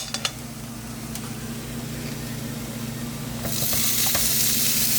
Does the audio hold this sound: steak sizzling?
yes